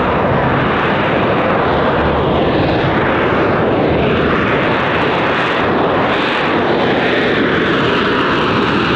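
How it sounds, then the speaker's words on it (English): AV-8B Harrier jet at an airshow, producing a loud, continuous roaring wash of engine noise with slow sweeping shifts in pitch as it passes overhead. "This is the magic carpet ride of the AV-8B Harrier."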